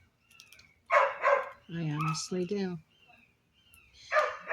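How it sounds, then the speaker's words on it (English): Dogs barking at home, short loud barks in bursts near the start and end, with a person talking over the middle. "So if you hear dogs barking on my video,"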